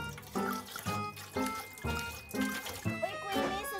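Water poured from a container during cooking, a soft splashing flow with rhythmic pulses, heard faintly beneath ongoing talk and background voices.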